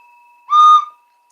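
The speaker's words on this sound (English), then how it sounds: "This sounds like a little toy choo-choo train." A toy train whistle gives a single bright, steady toot of about half a second, loud and close, with clean ringing overtones over a faint steady hum before and after.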